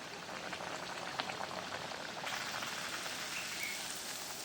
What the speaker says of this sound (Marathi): तेल तापले, कढईमध्ये पुरी टाकते मी.